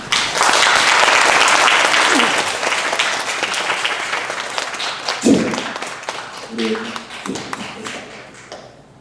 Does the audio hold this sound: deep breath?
no